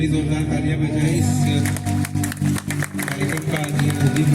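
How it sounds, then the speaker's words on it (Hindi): Audience applause at an NHPC raising day ceremony in Chutak, Kargil, steady clapping from a crowd that swells and continues for several seconds with background music and voices mixed in. "सभी जोरदार तालियां बजाएं।"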